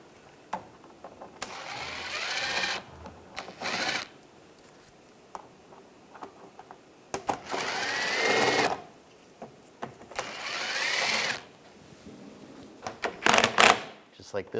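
An 8mm socket on a power driver backs out a screw holding the front bumper cover of a 2013-2016 Dodge Dart, in several short high whirring bursts close to the mic, separated by quiet gaps and brief talk.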